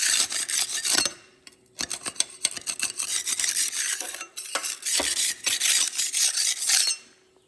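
A tool scrapes weld spatter off a metal welding table in repeated rough rasping strokes, loud and close, with short pauses between passes and no talking.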